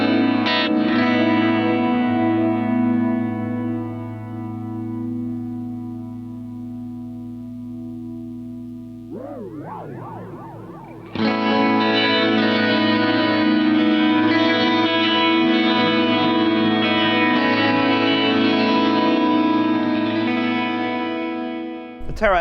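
An electric guitar plays through a Boss TE-2 Tera Echo effects pedal, sustained chords swelling with shimmering, reverberant echo, a bending transition around the middle, then a louder bright wash of ringing repeats that fades out.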